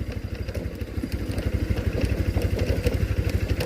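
An NS 200 motorcycle engine runs at a steady, rapid pulsing idle close to the microphone, its loud throb swelling slightly toward the end with no talking.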